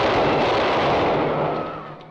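A film volley of gunfire as prisoners are shot in the 1949 historical spy thriller The Black Book; a loud burst of blasts blending into a dense roar that slowly decays.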